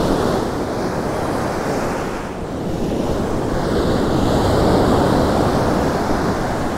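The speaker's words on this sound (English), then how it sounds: "Thought the wind was gonna be really bad" Strong wind sweeps a California beach during surf fishing for striped bass, a steady, loud, broadband roar mixed with crashing surf that swells and dips slightly, with no voices.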